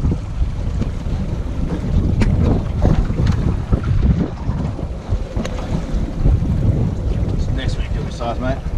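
An old Suzuki 4 outboard motor runs steadily on a boat, its continuous rumble mixed with heavy wind buffeting and water noise, close to the microphone for the whole stretch.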